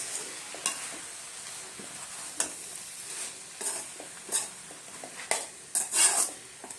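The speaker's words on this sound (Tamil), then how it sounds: "தேவையான அளவு உப்பு போட்டுட்டு நல்லா வதக்கிடலாம்" Banana flower and drumstick leaves sautéed with salt in a pan, a steady low sizzle under repeated scraping stirs that grow louder and busier toward the end, close by with no talk.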